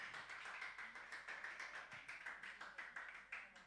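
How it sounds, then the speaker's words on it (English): An audience at a music seminar in Ghana claps in a quick, steady rhythm, each clap faint and somewhat distant, continuing without a break. "Why y'all clapping?"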